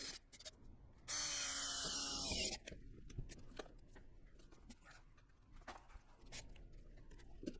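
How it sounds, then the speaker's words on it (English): A power drill bores holes for a big wing mount on a Nissan 350Z, a loud high whine for about a second and a half that winds down, followed by handling clatter and taps. "I can drill the holes for the top side of the mount and get it mounted up"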